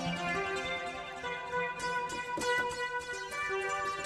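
An arrangement built around a Baby Audio Atoms physical modeling synth plugin: layered tonal synth parts with steady harmonic pads and plucked accents, playing continuously at moderate level with no voices.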